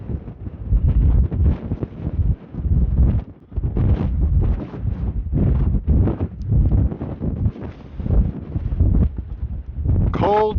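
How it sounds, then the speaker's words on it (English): Cold late-April wind roars in strong gusts across the summit of Indecision Peak in Nevada's Rainbow Mountain Wilderness and buffets the microphone loudly throughout. "Cold wind on this last week in April."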